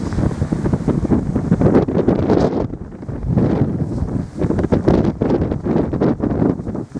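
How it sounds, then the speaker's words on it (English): Strong winter wind roars and buffets the microphone beside a river dam, blowing snow around in loud, continuous gusts with no talking. "snow blowing. I don't know if I'm getting it or not. It's blowing all over."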